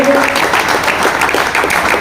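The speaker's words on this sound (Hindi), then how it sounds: "जोरों से तालियां बजाए।" A crowd claps continuously at a pigeon tournament prize distribution in Udgir, a dense steady patter of applause with voices mixed in underneath.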